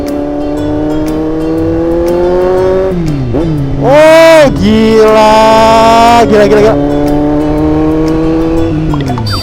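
A Kawasaki Z800 motorcycle on a test ride revs loudly close by, its engine note climbing and falling through gear changes with a high sharp rev burst midway, and a brief exclamation from the rider.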